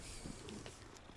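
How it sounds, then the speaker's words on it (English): A cat purring in the video game Hogwarts Legacy, a faint continuous low rumble under a soft background hiss with no talk. "Cat."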